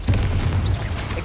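A Confringo blasting spell explodes in Hogwarts Legacy, a deep, loud rumbling boom that rolls on steadily for just over a second with no pause.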